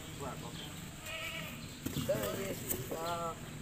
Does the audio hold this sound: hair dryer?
no